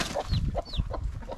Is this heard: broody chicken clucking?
yes